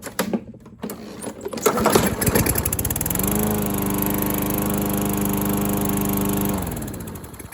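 Toro GTS push mower with a newly replaced carburetor and spark plug, cranking with a few rough pulls before the engine catches and runs at a steady, loud hum, then cuts off.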